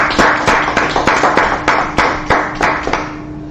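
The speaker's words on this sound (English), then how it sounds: "Let's go ahead and clap it up real quick." A crowd claps in a burst of sharp, irregular handclaps at a street gathering in Minneapolis. The clapping is close and loud, and a steady hum runs underneath.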